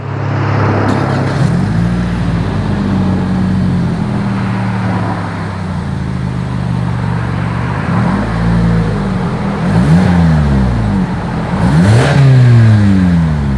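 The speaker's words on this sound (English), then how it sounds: "As always, here is that exhaust clip." A Toyota Camry XSE V6 with dual exhaust and quad chrome tips revs loudly up close, with repeated throttle blips rising and falling in pitch over a steady idle and a sharper final rev.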